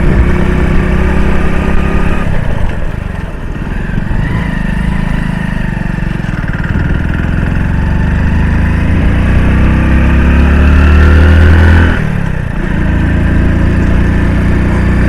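A motorcycle engine labors up a steep zig-zag mountain road near Harshnath hill in Rajasthan, a loud, steady drone throughout with rising and falling strain and wind rush, no talking.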